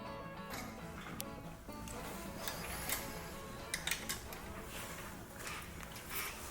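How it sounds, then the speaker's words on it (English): A choke cable is reattached on an engine, giving faint, scattered mechanical clicks and small ticks with a few sharper taps near the middle, all quiet and close. "Now I'll reattach the choke cable."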